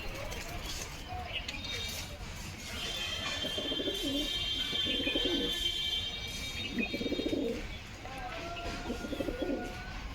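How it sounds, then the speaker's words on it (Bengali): A pet pigeon at home coos in soft, repeated low bursts, with faint chirps scattered among them. A person talks over much of the sound. "দেখেছো কিরম ডাকছে দেখো লেসটা কিরম করে ডাকছে"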